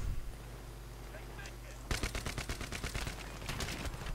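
Rapid automatic gunfire in Battlefield 3 rattles in quick repeated bursts after a quiet rumbling start, weapons firing nearby.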